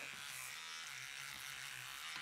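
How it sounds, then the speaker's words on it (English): An electric toothbrush scrubs a part from an old Stuart S50 steam plant in a bath of cellulose thinners: a continuous, even high buzz with a bristly hiss, steady and close throughout. "When I first tried out this electric toothbrush idea,"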